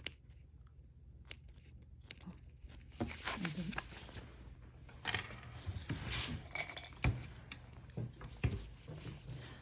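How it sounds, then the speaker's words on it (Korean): Scissors snip knitted Fair Isle gauge fabric between single crochet stitches to make a steek, giving a few sharp, faint clicks and soft cuts over a quiet room. "짧은뜨기 사이로 얘를 잘라주세요"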